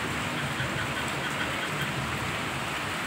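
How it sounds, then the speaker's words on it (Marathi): Steady rain pours down in a dense, even hiss, with no pauses and no voices. "हे बघा भरपूर पाऊस चालू आहे"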